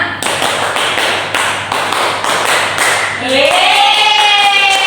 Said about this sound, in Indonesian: tepuk 3, tepuk 4, tepuk 4, tepuk 5, dua kali tepuk 5.